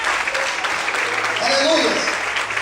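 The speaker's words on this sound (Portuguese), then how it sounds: "você pode aplaudir e glorificar o Senhor" A church congregation claps together in worship, dense steady applause filling the room throughout, with voices calling out and speaking over it.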